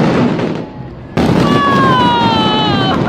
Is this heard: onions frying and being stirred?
no